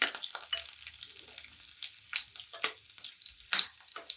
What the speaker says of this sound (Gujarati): આપણે લસણ અને મરચાંને ફ્રાય કરીને કાઢી લીધા છે